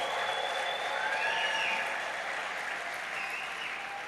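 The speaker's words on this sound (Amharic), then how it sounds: "አጨብጭቡለት።" A church congregation applauds during Christmas worship with a continuous wash of clapping. The sound is moderately loud and even, and faint high voices or ululation float over it before it eases slightly at the end.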